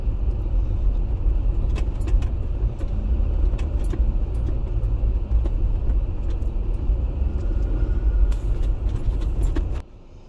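A small turbo Jeep drives off-road, its engine and road rumble a steady close drone under rattling and clinking from inside the cabin, cutting off abruptly near the end.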